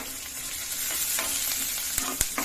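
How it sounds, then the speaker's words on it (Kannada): Onions with ginger and green chilli fry in a pan for a steady, close sizzle, broken by a few sharp stirring clinks near the end. "ಚೆನ್ನಾಗಿ ಫ್ರೈ ಆಗಿಬಿಡುತ್ತೆ ಈರುಳ್ಳಿ ಜೊತೆ."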